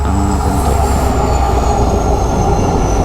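A train rolling past at a railway track crossing on NH67, heard loud and close as a steady rumble with wheel squeal and rail noise, continuous and without voices.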